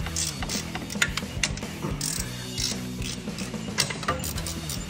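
Rapid ratchet clicks and metallic tool noises from removing the two-piece bolted intake manifold on a turbocharged Eagle Talon TSI, with steady clicking bursts close up over a low background hum.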